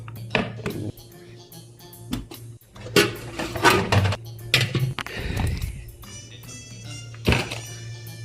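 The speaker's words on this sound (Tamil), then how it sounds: "வெங்காயம், தக்காளி, பூண்டு, பச்சை மிளகா மட்டும் வெட்டணும்" Knife chopping onion, tomato, garlic and green chilies on a cutting board in a home kitchen, with irregular loud thunks and knocks spaced across the clip, close and sharp, with a few rattling dish sounds.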